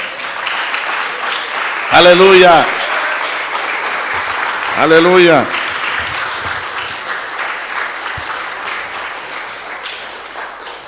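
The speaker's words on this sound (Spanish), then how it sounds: "Denle un aplauso a Cristo Jesús" Church congregation applauding Christ during a sermon, a steady broadband wash of clapping throughout, broken by two loud spoken shouts over it.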